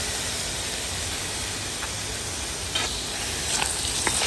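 Jumbo prawns for a village-style prawn curry hit golden-brown fried onions in a hot pan, producing a steady, close sizzle with a few light clatters of stirring toward the end.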